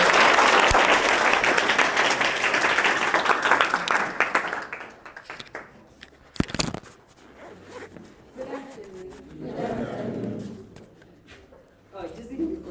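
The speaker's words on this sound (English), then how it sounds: "can I get a round of applause for that?" Loud applause from a school audience at Kerma Senior School's CSR event. Clapping and crowd noise fill the first few seconds, then die away into quieter handling sounds and voices talking.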